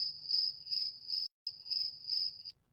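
Crickets chirp in a steady high-pitched trill, pulsing rhythmically, with a brief gap midway before resuming and stopping.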